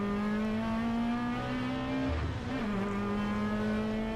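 A Toyota MR2 race car engine holds a steady high-pitched drone with a brief dip in pitch near the middle, loud and continuous under circuit racing traffic with no talk.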